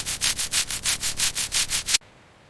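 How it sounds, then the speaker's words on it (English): A wire brush scrubs rust off the exposed metal floor of a Lamborghini, a rough hissing scrape in about ten steady back-and-forth strokes, close and loud, then stopping abruptly into quiet. "Brushing off the rust, bringing the floor back to life."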